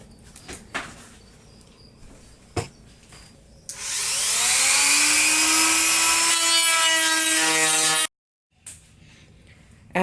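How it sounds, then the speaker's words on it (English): A rotary tool with a grinding stone smoothing the jagged edges of Lexan cutouts: after a few light knocks, a loud high whine runs for about four seconds with a shifting pitch, then cuts out abruptly, close by. "take a grinding stone and go around and get these jaggedy edges off and kind of clean this up a little bit"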